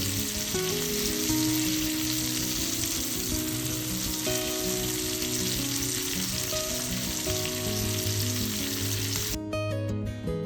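Pomfret fish fries in a pan with a dense, continuous sizzle, loud and close, while steady music plays underneath.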